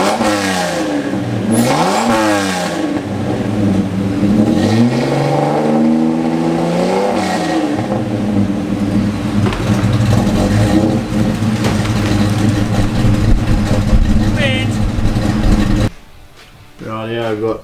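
A supercharged Ford AU engine revs hard through new mufflers, loud and close, its deep exhaust note repeatedly sweeping up and falling back before cutting to a quieter idle at the end.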